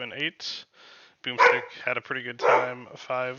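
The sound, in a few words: dogs barking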